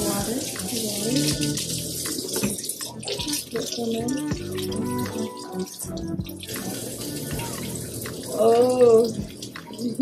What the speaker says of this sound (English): I'm gonna play with the water today.